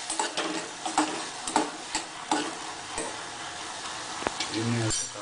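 Sweet corn cooking in a pan with salt and pepper seasoning, a soft sizzle broken by repeated clicks and scrapes of stirring, ending in a brief louder clatter.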